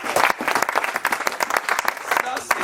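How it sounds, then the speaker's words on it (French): Church congregation at a Sunday service applauding the Lord, a dense wash of many hands clapping with sharp individual claps standing out, fairly loud and close, with voices mixed into the crowd noise. "Applaudissez encore le Seigneur."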